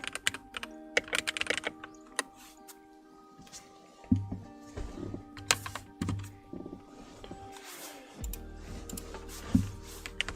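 Steady, rapid typing on a new, quiet computer keyboard, with soft clustered key clicks and brief pauses, close up over light background music during a TETR.IO session.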